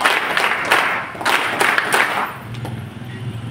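An audience at a village women's gathering applauds in welcome, a few short bursts of group clapping that swell and fade within a few seconds, fairly close and loud.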